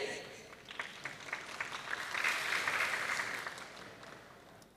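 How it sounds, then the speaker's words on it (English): Seminar audience applause at a digital transformation conference, a dense wash of many hands clapping that swells toward the middle and holds steady, moderately distant and without talk. "Please give a big round of applause to all of us today."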